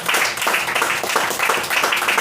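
A congregation claps for Jesus during a church prayer service, dense and steady applause sustained throughout without any speech.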